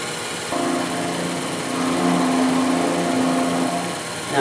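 A milling machine cuts metal with a quarter-inch bit, a steady mechanical whine and hum that steps up slightly partway through and holds evenly to the end.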